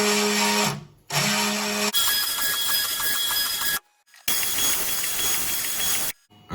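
A homemade mini CNC mill in motion, its lead screw driven with a loud, whining mechanical drone that starts and stops in several bursts separated by brief silences.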